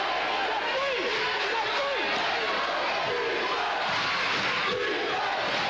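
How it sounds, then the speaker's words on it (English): A high-school basketball crowd in a North Salem home gym keeps up a loud rhythmic defense chant, the voices massed and continuous, with squeaks and bounces from the court faintly underneath. "the North Salem crowd gets into it, the defense chant"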